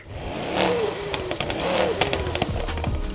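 Mercedes-AMG E63 engine revving with an air intake whoosh, rising and falling in a few swells over steady engine drone, close and fairly loud with no talk.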